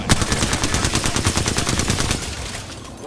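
A rapid burst of automatic gunfire from Apex Legends, loud and close, with dense, evenly spaced shots that slowly fade toward the end.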